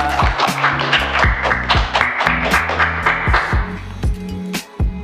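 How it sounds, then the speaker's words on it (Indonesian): An audience claps for Teh Hilda at a student council candidates' podcast at a high school in Tasikmalaya, with sharp, uneven hand claps over a steady musical backing. "Tepuk tangan dulu dong buat Teh Hilda"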